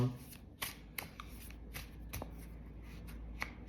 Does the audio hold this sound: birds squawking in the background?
no